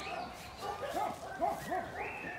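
A puppy whimpers and yips in a quick series of short, rising-falling cries, close by and fairly soft.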